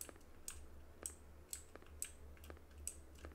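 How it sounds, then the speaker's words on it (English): Clicky computer keyboard typing, a steady run of sharp keystrokes at a brisk uneven rhythm, close and distinct over a low hum, with no talking. "I wish we could get a quieter keyboard"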